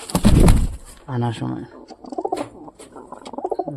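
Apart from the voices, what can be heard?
pigeon cooing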